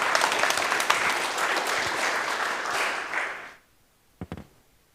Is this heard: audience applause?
yes